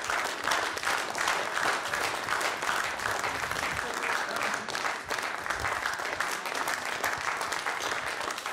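Steady applause from an audience welcomes a poet onto the stage at a poetry reading, even and fairly distant, continuing unbroken throughout.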